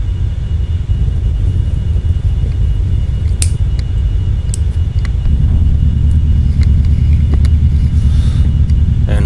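Spacecraft in the Orbiter space simulator plunging through the atmosphere on an aerobraking pass, a steady deep low rumble with a few faint clicks above it, sustained and unbroken without talk.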